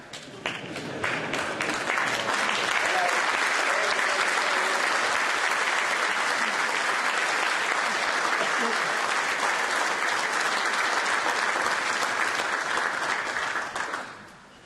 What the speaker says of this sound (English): give my wife and kids a round of applause